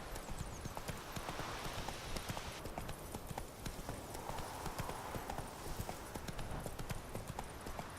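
Roach, Geralt's horse in The Witcher 3: Wild Hunt, galloping at a steady pace, a continuous rapid clip-clop of hooves that is close and fairly loud for the whole stretch, with ambient game sound underneath.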